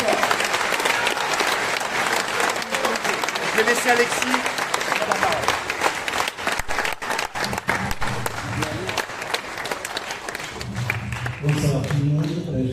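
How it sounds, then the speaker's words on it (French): Audience applause fills a festival opening ceremony in a historic cinema, steady dense clapping throughout, with a voice speaking over it near the end. "je vous propose de vraiment applaudir Mohamed pour 22 ans"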